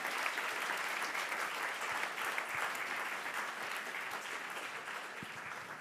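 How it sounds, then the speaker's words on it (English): Conference attendees at an electricity market session applaud their panel, a continuous, dense wash of clapping from a large room that holds steady and fades slightly toward the end. "Can we have a round of applause for our panel?"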